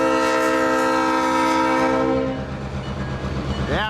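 An EJ&E SD38-2 diesel locomotive nears a grade crossing, its horn sounding loud and sustained before fading into rumbling engine and wheel noise, with a brief squealing sweep near the end.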